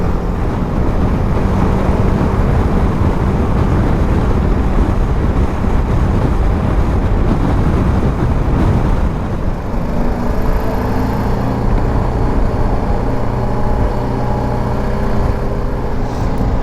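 Traffic fills a city street in Amman, a loud, continuous roar of passing cars and engines with a steady low rumble that runs without a break.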